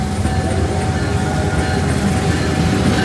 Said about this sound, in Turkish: Yürüdüğümüz yolda tren geçiyor, o yüzden şu an trafik var.